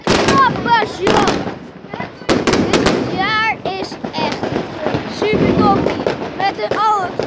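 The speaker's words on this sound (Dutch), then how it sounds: "Weer een vuurpijl ergens." Firework rockets burst with sharp bangs and crackles repeatedly, some close and loud, others more distant, with people talking throughout.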